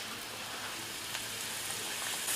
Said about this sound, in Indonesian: Setelah minyak panas, goreng pisang.